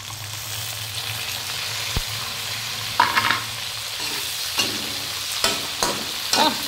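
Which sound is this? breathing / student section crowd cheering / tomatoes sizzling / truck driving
tomatoes sizzling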